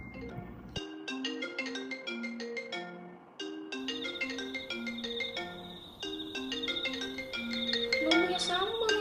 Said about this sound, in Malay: Telefon berbunyi lagi.